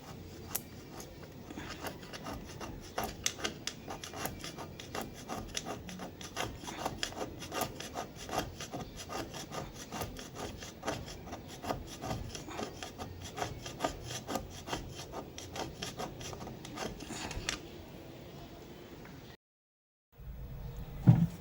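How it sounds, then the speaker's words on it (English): Steady rhythmic rasping of sanding paint off an aluminum wheel rim, continuous strokes for a long stretch, then it stops and goes quiet. "Okay, I have finished sanding the entire rim."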